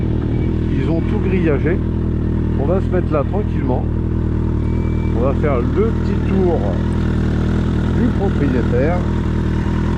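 A 1996 Suzuki Bandit 1200 motorcycle engine runs with a steady low rumble throughout, heard up close beneath someone talking continuously.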